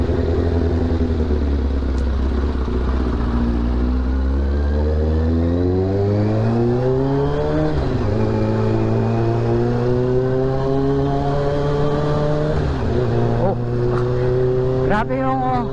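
A motorcycle pulls away in first gear, its engine note climbing steadily in pitch, then dipping and climbing again twice more as it keeps accelerating. The engine is loud and close throughout.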